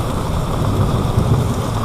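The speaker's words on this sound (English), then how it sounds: "We are wet sanding in the rain." Rain falls steadily outdoors during wet sanding of a car, a dense, loud, unbroken hiss with a low rumbling undertone across the whole short moment.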